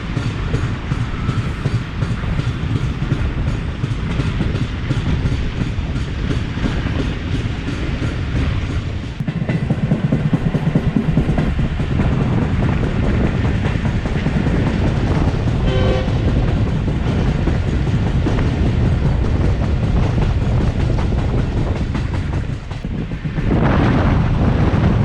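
The Tezgam express passenger train rolls along the tracks at about 20 to 25 km/h, a steady loud rumble with clickety-clack and wind buffeting at the microphone, continuous throughout.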